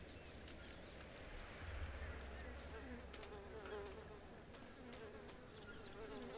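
Bees buzz faintly in a sandbox video game, a thin continuous insect drone under low background noise and faint talk, quiet overall.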